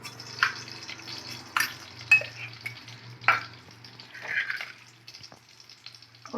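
Mustard seeds tossed into a teaspoon of hot oil in a kadai, giving short sizzling bursts and a few scraping stirs over a low steady hum.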